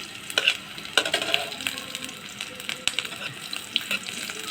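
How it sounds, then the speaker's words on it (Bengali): Onions sizzle and foam in hot mustard oil for a hilsa recipe, a steady close frying hiss with scattered crackles and a few stirring scrapes, no voices. "এখন একটু আমি পেঁয়াজটাকে ভেজে নেব সর্ষের তেল দিয়ে রান্না করতে গেলে এরকম ফেনা উঠবে"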